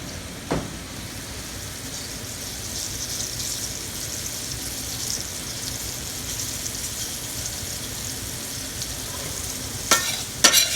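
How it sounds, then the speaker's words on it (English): Beef tips searing and browning in hot oil, a steady close sizzle throughout with a couple of brief clatters of a utensil near the start and end. "You just want to sear these off, brown them a little bit"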